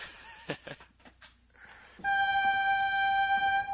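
A subway train sound effect from the Pokémon Battle Subway video game: steady, loud horn-like tones with bright overtones start abruptly partway through and hold to the end, after a stretch of scattered quieter noises.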